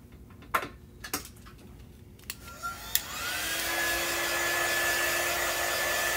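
Several sharp clicks and taps come first, then a hair dryer switches on and runs with a steady, close, loud whoosh and whine as it dries a chalk board.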